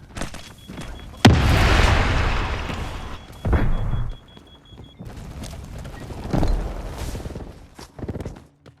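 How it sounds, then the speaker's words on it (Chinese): A grenade in the Delta Force shooter game bursts with a sudden loud blast and a long fading rumble, followed by a couple of smaller thuds and bangs spaced out afterward. "请对面吃一颗手雷。"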